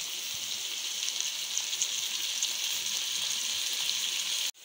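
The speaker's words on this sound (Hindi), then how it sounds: "अब हम इसमें एक्चुअली डालेंगे दही घी और इसे अच्छी तरह हम भून लेंगे।" Beef karahi frying in oil with yogurt and ghee gives a steady, loud, even sizzle with no talk, holding constant for several seconds before cutting off abruptly at the very end.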